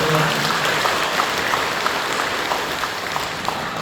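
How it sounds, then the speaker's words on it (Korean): Congregation applauding during a Korean church worship service, sustained loud clapping filling the hall at a steady level, with faint crowd murmur underneath. "박수를 경배해 주시죠"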